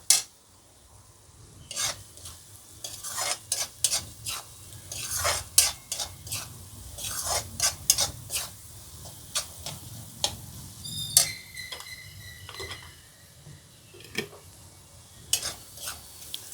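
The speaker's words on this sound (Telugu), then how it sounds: "కొంచెం ఆయిల్ వేస్తా. ఓకే, ఫ్రై చేసుకుంటా కొంచెం లైట్గా." Frying in oil in a pan while making egg curry: a soft sizzle beneath frequent close clinks and scrapes of a utensil against the pan, irregular and lively, without speech.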